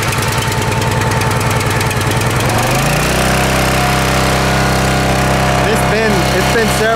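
A wood splitter's small engine starts with one pull, sputters briefly, then settles into a loud, steady running drone close by.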